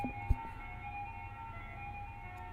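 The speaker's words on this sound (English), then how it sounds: "The kind you'd hear on top of an old-timey ice cream truck." A faint, tinny ice cream truck jingle plays steadily in the background, thin melody tones, with a brief knock near the start.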